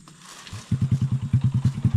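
Motorcycle engine at a riverside campsite sputtering to life and settling into a rapid, even idle, a close loud pulsing putter of about a dozen beats per second with no voices over it.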